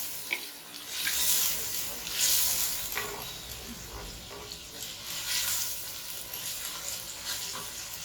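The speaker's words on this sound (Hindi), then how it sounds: "तो बस आपने तेज चूल्हे पे ही जल्दी जल्दी 5 मिनट चिकन डाल के इसको फ्राई कर लेना है" Chicken frying in a pan over a high flame, giving a soft steady sizzle with swelling hissy bursts as the pieces are moved around; fairly quiet and close, with no voices.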